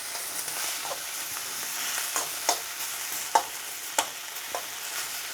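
Onions and peppers frying in a pan for sweet and sour chicken balls, with a steady sizzle under repeated scraping stirs and spatula taps spaced about half a second apart, close and moderately loud, no talking.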